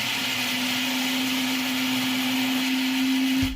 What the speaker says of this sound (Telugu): మనము ఇప్పుడు చిన్న మిక్సీ జార్ తీసుకొని ఉల్లిపాయలు, అల్లం, తెల్లుల్లి, ఒక 1/2 టేబుల్ స్పూన్ జీలకర్ర వేసుకొని ఇప్పుడు కొంచెం నీరు వేసి గ్రైండ్ చేసేద్దాం